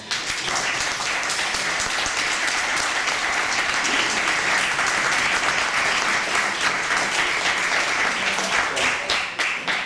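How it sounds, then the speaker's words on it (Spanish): Loud, dense audience applause fills the room after a presentation in Plasencia, a steady wash of many hands clapping that holds evenly throughout without a break. "un aplauso para..."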